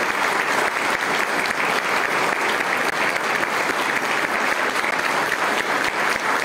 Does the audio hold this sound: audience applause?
yes